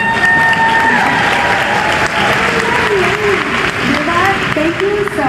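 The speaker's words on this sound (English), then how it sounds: "Carmindi, big applause for her." Sustained applause from an audience at a beauty conference fills the room, dense clapping continuing loud and steady throughout with some crowd noise mixed in.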